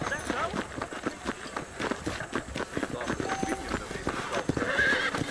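Rapid hoofbeats of a galloping horse with a whinny, under lively voices, in the video game Red Dead Redemption.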